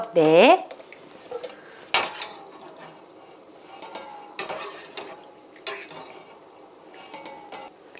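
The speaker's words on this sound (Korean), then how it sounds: "물이 막 끓고 있죠? 이럴 때 썰어놓은 오징어를 넣어주세요. 휘리릭 한번 데쳐갖고 건져주시면 돼요." Sliced squid scooped out of boiling water in a kitchen, close clattering of utensils against a pot in uneven bursts, with a brief voice near the start and quieter bumps and scrapes after.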